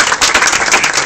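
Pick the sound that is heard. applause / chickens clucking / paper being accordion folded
applause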